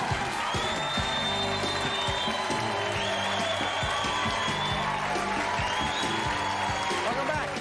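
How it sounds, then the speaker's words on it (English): Studio audience on the Jerry Springer TV talk show applauding, a steady wash of clapping and crowd noise with scattered whoops, and voices talking over it throughout. "Ready applause."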